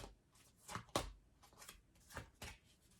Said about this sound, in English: I'll shuffle because I know you don't love to watch this.